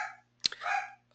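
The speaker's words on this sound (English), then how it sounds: "Oh, see, there's the dog." A dog barks once, sharp and a bit distant, followed by a longer whining yelp, with quiet room hum underneath and no talking.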